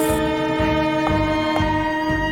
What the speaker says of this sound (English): Another train? That's impossible.